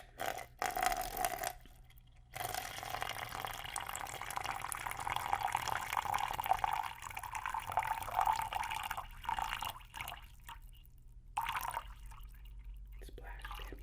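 Water splashes and drips close to binaural mannequin head microphones, wet bursts that come and go with short quiet gaps, with soft whispery sounds mixed in.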